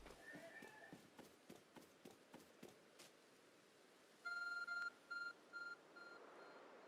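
In the Pokemon Legends Arceus video game, a run of hoof-like clip-clop footfalls gives way to a phone's repeated electronic beeps, sounding as several short bursts and then fading into a soft background hiss.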